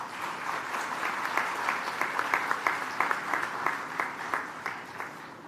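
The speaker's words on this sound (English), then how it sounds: "Welcome him with a round of applause." A hall audience applauds in welcome for the Australian education minister at an Australia–India education event, with sustained clapping and some sharper individual claps standing out near the front, no voices over it.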